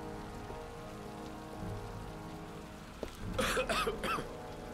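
Steady rain falls in the video game Heavy Rain, an even hiss of drops on surfaces, followed near the end by a burst of coughing from a character.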